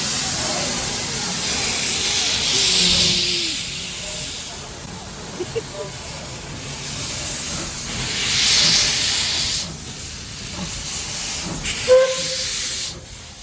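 Steam hisses from the Puffing Billy historic 1900s steam train in Australia, loud broad bursts that swell and fade several times, with people talking in the background.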